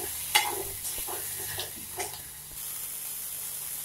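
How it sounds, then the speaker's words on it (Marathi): A ground masala paste fries in oil for cut vada curry, with a low, steady sizzle and a few soft scraping strokes of stirring, close and fairly quiet with no voices. "तर हे वाटण टाकून घेऊ. यालाही चांगलं परतून घ्यायचं. तेल सुटायचं."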